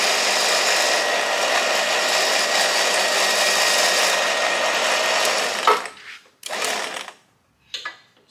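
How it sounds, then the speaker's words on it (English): OPENROAD 13000 lb winch motor whining steadily as it reels cable back in, a loud continuous mechanical hum that stops abruptly, followed by a few short bursts of the motor. "wheel the winch back in."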